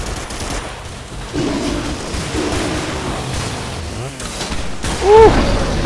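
Rapid bursts of gunfire crackle over a steady din of game noise in Primal Carnage, a humans-versus-dinosaurs shooter, with a short whistling tone near the end.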